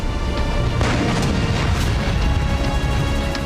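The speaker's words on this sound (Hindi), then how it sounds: "HMS हुड ने बिस्मार्क पर पहला फायर किया।" Heavy naval gunfire from the battlecruiser HMS Hood shelling the battleship Bismarck: a loud, sustained roar of booms and rumbling blasts with sharp cracking bursts layered through it.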